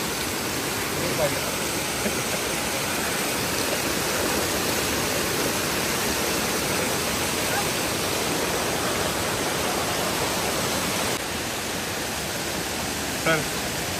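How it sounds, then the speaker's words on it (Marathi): A small waterfall rushes in a steady, broad hiss of falling water, constant and close throughout. "आम्ही छोट्या धबधब्यात चालू आहे"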